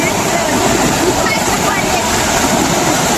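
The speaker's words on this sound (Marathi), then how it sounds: "पूर्ण मोरी भरून चालले पाण्याने." Floodwater surges through a culvert under a road during a heavy flood, making a loud, unbroken rushing roar that fills the whole stretch.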